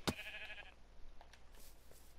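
A sheep bleats in the video game Minecraft, one sharp close bleat with a brief tonal cry after it, over a low steady game ambience with faint scattered clicks.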